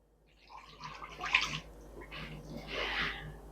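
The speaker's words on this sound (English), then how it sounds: "All right, and I'm going to throw in the water." Water is poured into a slow cooker holding pork, heard as a few close splashing gushes in separate bursts against a quiet kitchen.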